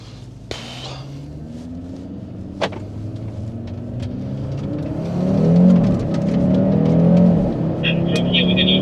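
A 390 hp five-cylinder Cupra Formentor VZ5 accelerates hard on closed roads. Its engine note builds, with rising harmonics and a louder surge in the second half, and a few sharp clicks and taps sit over the engine.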